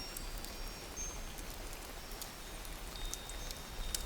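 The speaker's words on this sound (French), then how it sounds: "Écoutez la pluie." Soft, steady rainfall patters continuously, a gentle even hiss with occasional faint droplet ticks, fairly quiet and without any voices.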